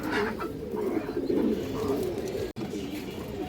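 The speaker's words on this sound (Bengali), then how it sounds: "খুব সুন্দর একটা মাদি কবুতর মাশাআল্লাহ" A female pigeon kept in a fancy-pigeon loft gives a low, continuous throaty coo, close by and steady with a short break near the middle, over faint background noise and no speech.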